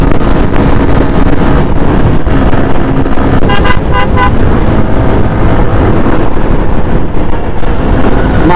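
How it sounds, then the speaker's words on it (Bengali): A motorbike runs at speed with loud, constant wind buffeting and engine roar. A short horn toot sounds near the middle. "ভাই, পুরো একের বাইক টানতেছে।"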